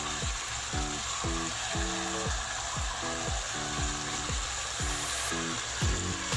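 Holy basil leaves go into a pan of stir-fried chicken intestine, with a steady loud sizzle underneath and a series of short scraping stir strokes of a spatula repeating about once a second.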